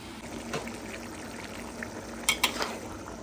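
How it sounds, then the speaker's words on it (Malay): Food frying and sizzling in a pan as chicken and coconut milk go in, a steady hiss with a few splashy stirring bursts near the end, close by. "Lepas dah garing tadi tu tambah ayam dan santan."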